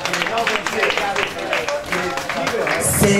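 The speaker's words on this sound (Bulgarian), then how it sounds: "Аплодисменти!" An audience applauds at a Miss Travesti drag pageant: dense, continuous clapping fills the room throughout, with voices mixed in.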